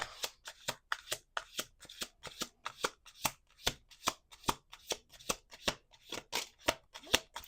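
A deck of tarot cards being shuffled close up, a rapid series of crisp riffling bursts repeating at a steady rhythm, each burst a sharp papery flutter, with no talking.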